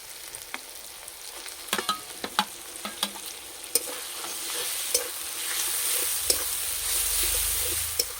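Tomato, ground shrimp paste and pointed gourd seeds frying with grated ginger and garlic: a low, even sizzle with scattered sharp spoon clicks against the pan, the frying swelling louder near the end.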